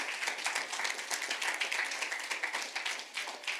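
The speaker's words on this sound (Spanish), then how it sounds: "Vamos, dale un aplauso al Señor." A church congregation claps during a worship service, rhythmic group applause with distinct beats, steady and lively for several seconds, moderately loud.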